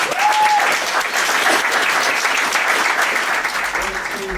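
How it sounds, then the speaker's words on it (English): A conference audience applauds a speaker with steady, dense clapping that fills the room for several seconds, loud and continuous, with a faint tone drifting in near the start and a little murmur toward the end. "please now give a round of applause for Mark Cocking."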